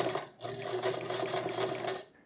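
A sewing machine stitches a shirt collar to the end of the seam, running in a steady close whir with one short pause near the start and no talk over it.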